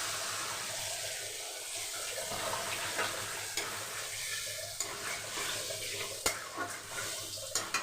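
Yogurt paste with a little extra yogurt tipped into a hot pan and sautéed for niramish doi potol, a steady soft sizzle and frying hiss with light stirring scrapes and occasional clinks, close up and with no talking.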